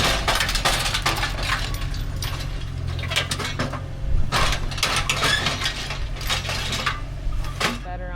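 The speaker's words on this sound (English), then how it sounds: "I decided to crush the boat trailer so it would more easily fit on Rex's scrap hauler." A tractor crushes a boat trailer for scrap, producing dense metallic crunching, creaking and clanking over a low continuous engine rumble, with sharp bangs scattered through the whole stretch.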